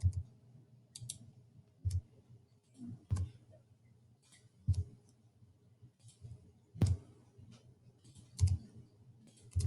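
Keys tapped on a computer keyboard while entering a crossword answer, sparse single clicks and short clusters spaced a second or two apart, close and quiet against a low background hum.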